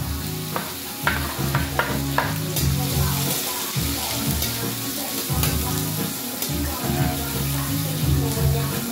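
Garlic and onion sauté in a pan for bitter melon omelette, a steady loud sizzle with occasional scraping stir strokes and utensil taps throughout.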